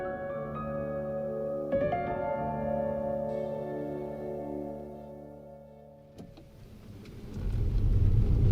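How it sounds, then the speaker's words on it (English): A car pulls away from a house in an audio drama scene, its engine hum starting steady, dropping off as it departs, then giving way to a rising wash of rain-like noise near the end. "As a car drives itself away from the Zhang residence"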